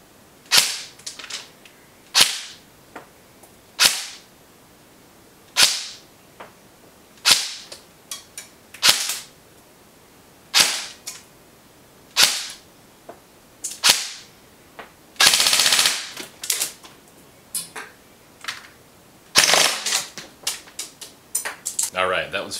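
An Echo 1 Platinum Edition M4 airsoft rifle rips off repeated rapid full-auto bursts through a chronograph, a fast ticking chatter at roughly fifteen rounds a second, with short pauses between strings.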